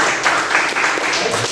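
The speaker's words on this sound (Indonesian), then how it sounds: "Tepuk tangan mungkin." Applause from a lecture audience at the close of a class session, a steady dense wash of clapping that carries on through the short stretch at a fairly even level.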